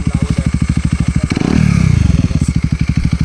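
A KTM Duke 250 motorcycle with a loud open exhaust idles in a fast, steady thumping rhythm, then blips into a short rev before settling back to idle, close by.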